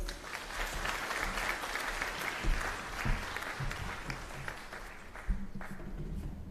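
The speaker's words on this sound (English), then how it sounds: "All the graduates deserve another big round of applause, please" Sustained applause from an audience honouring graduates at a university graduation ceremony, a steady broadband patter of many clapping hands throughout with no gaps.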